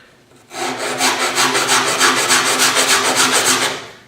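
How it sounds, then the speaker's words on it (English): Sandpaper wrapped around a caulk tube rasps against a wooden cutout in quick, steady back-and-forth strokes, loud and close, with no talking. "just a few strokes with the sandpaper"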